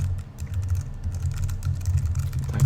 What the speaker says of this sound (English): Type that in, type in a password.